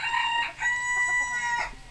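Loud, close roosters crowing inside a chicken coop in long overlapping calls, one after another, filling the space with a strained, drawn-out cry.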